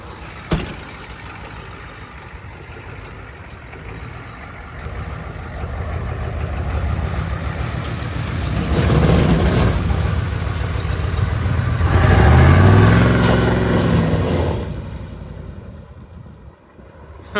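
A Ford turbo diesel truck engine runs steadily at a low idle. It swells louder twice toward the end, then drops away, and no one talks over it.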